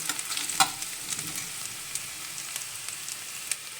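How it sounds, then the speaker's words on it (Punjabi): Vegetables and garlic roast in hot oil in a pan for a mixed-vegetable dish, sizzling steadily up close while a utensil stirs and scrapes with occasional sharp clicks against the pan; no voices. "ਇਹਨੂੰ ਚੰਗੀ ਤਰ੍ਹਾਂ ਭੁੰਨ ਲਵੋ ਲਾਲ ਹੋ ਜਾਣਗੇ"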